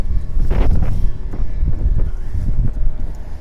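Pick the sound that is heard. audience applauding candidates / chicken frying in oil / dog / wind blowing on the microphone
wind blowing on the microphone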